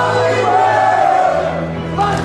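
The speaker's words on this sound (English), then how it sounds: "As you can hear, the crowd just always tends to love this man's music" A crowd at a PWR wrestling show in Bark River, Michigan, roars steadily over a wrestler's entrance music, a loud, continuous wash of cheering and music lasting a couple of seconds.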